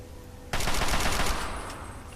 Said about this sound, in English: So I'm getting out my Chinese assault rifle.